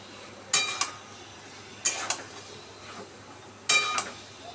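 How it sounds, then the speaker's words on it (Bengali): A spoon scrapes and clinks against a pan three times at even intervals while pieces of fried pointed gourd are stirred into spice masala, up close over a faint low background hum, no voices. "পটলগুলো দিয়ে আবারও খুব ভালো করে একবার মশলার সাথে মিশিয়ে নিচ্ছি"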